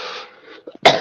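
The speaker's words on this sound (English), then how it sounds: "I don't mean to cough" A single person's cough, close and fairly loud, comes sharply near the end after a stretch of quiet, muffled background sound from a casual live-streamed conversation.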